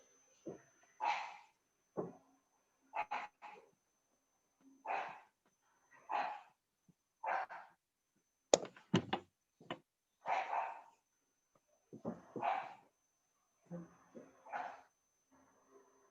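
A household dog barks in scattered, fairly faint bursts over roughly sixteen seconds, mixed with brief speech and the sound of an online class.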